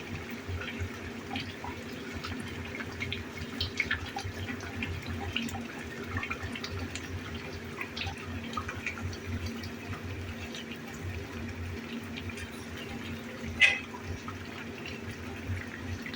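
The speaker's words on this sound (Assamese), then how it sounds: "ইয়াতে পানী দি দিলোঁ।" Water running into a pan of fish curry, a steady soft hiss and trickle held evenly throughout with one faint clink, fairly quiet and alone.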